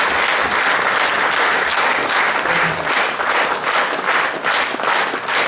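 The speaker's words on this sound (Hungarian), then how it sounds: "és egy nagy tapsot Editnek" Loud, sustained audience applause fills a Mother's Day folk-song afternoon in Abony after a short poem recital, many hands clapping densely and evenly with no voices over it.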